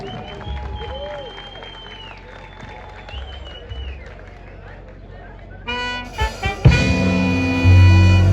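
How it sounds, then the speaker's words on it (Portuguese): Audience applause for a band at a live community event, starting after an announcer's voice and swelling into a dense crowd of clapping and cheering with feedback-like tones toward the end. "uma salva de palmas para eles"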